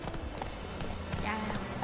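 Roach, the horse in The Witcher 3, trots with soft repeated hoofbeats under a voice, fairly quiet and close.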